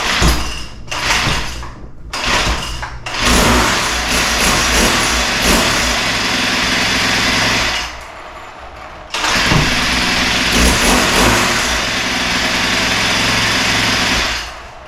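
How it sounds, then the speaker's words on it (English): A Troy-Bilt TB265EC string trimmer engine started with its pull starter, a few short rope pulls before the small engine catches and runs loud and close, briefly dropping off before revving again. "The pull starter is working like it should."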